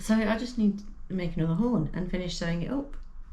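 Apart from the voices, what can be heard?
No everyday noise stands out behind the speech.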